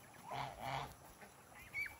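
Geese on a farm honk in two loud, close calls followed by a shorter honk, with quiet rustling between them and no talking.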